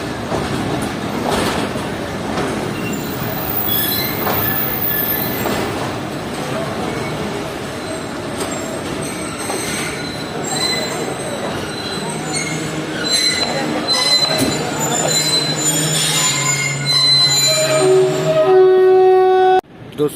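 Karakoram Express train moving through Faisalabad railway station, loud and close, with rumbling wheels, clattering over rail joints and squealing, a sustained whistle-like tone near the end, and voices talking under the noise.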